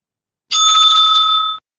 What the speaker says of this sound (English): The bell will be ringing again